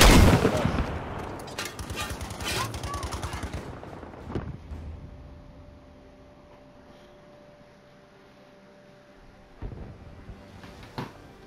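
Rockets and gunfire from a multiplayer shooter video game open with a dense, loud burst of rapid shots and blasts, then fade into quieter stretches broken by a few isolated later shots.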